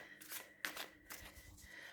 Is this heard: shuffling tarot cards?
yes